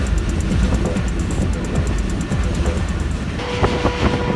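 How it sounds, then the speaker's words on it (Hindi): Passenger train running through Gojra railway station without stopping, a loud, continuous rumble with rapid clickety-clack of wheels, heard close and dense throughout, with no speech. "गोजरा रेलवे स्टेशन से पास थ्रू हुई है ट्रेन, यहाँ पे स्टॉप नहीं है शालीमार का।"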